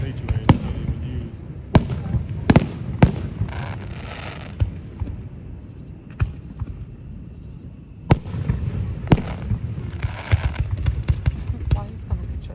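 Fourth of July fireworks near Camp Lejeune go off in a scattered series of sharp bangs and crackles, some close and loud, others farther off, over a constant low rumble of background noise and occasional voices.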